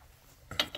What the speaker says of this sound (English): And now I'm just using a ratchet to get them out.